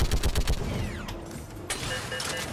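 Rapid bursts of gunfire from a mounted gun in the Mass Effect 3 video game, loud and dense at first, then easing into a quieter rumbling battle mix with one sharp hit near the end.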